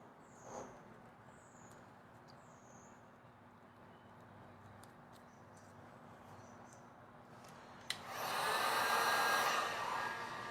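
A heat gun warms matte black vinyl wrap on a Tesla Cybertruck. After faint background noise and a click, a steady close blowing hiss starts and runs to the end, with no talking.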